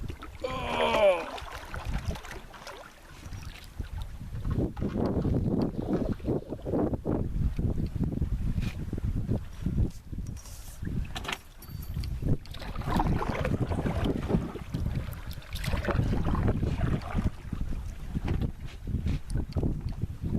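A canoe on the AuSable River in Michigan, broad low rumbling and grinding as the hull drags over the riverbed, coming in bursts over wind noise and water, with voices speaking now and then.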